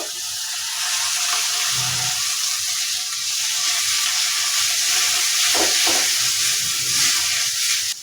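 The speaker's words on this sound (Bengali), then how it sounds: "এখন আমি বেটে রাখা চিংড়িগুলো দিয়ে দিব" Ground shrimp paste sizzles hard in a hot pan for a shrimp and bean mash, a loud continuous frying hiss with occasional stirring scrapes and no talk over it.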